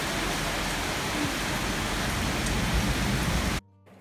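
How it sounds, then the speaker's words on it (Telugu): Heavy rain pours steadily, heard from a balcony, a dense, loud, even hiss of downpour that continues without a break and then cuts off abruptly near the end. "చూసారు కదా ఎంత పెద్ద వర్షం పడుతుందో"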